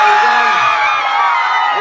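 A large crowd at a political rally shouts and cheers in a dense, continuous roar of many voices, loud and close throughout.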